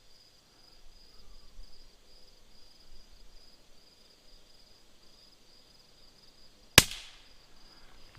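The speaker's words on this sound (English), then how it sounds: "That'll be the pellet that shoots out of this gun." A Crosman Vapor Max air rifle fires a single sharp pellet shot near the end, a loud crisp crack against a quiet outdoor background of steady insect chirping.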